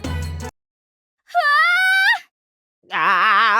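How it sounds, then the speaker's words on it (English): Wailing, drawn-out screams from the Cookie Run Kingdom game come in three separate bursts with silent gaps between, the second and third rising and wavering in pitch, loud and close. "Where did that scream come from?"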